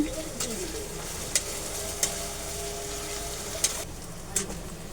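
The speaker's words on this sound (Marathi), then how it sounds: "त्यानंतर मी इथे कढीपत्ता टाकते." Curry leaves dropped into hot oil give a steady crackling sizzle, with a handful of sharp metallic clinks from a utensil hitting the pan spaced through it.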